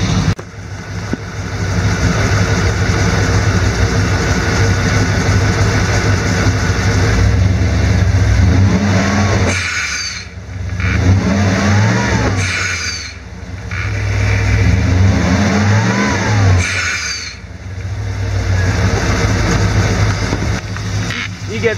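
Car engine with a DIY boost setup started and revved repeatedly, rising and falling in several long pulls over a steady idle, close and loud.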